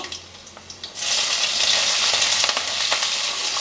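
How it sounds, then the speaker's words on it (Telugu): Onion, green chili and curry leaves hit hot tempering oil with a sudden loud sizzle that jumps up after a second, then keeps crackling steadily and close with small pops. "మనం ఈ టైంలో ఉల్లిపాయ పచ్చిమిర్చి కరేపాకు వేసేసుకుందాం"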